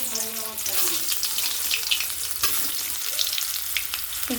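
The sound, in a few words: potatoes frying in hot oil in a wok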